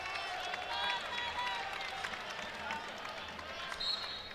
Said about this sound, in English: Crowd a little agitated after that.